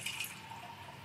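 Water pouring steadily from a Kangen alkaline water machine set to 9.5, its highest setting, into a container, a continuous soft trickle and splash heard close and alone.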